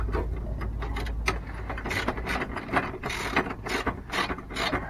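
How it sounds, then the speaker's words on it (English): A ratchet tightens the clamps of an emove motor mover on a Bailey Unicorn caravan, a rapid run of close, crisp clicking strokes repeating steadily throughout. "So again, we're just going to tighten them up a little bit, not too tight."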